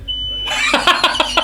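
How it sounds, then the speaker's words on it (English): A smoke alarm chirps in a rapid series of harsh, closely spaced beeps, loud and near, after a brief steady tone. "yeah, that's a smoke alarm"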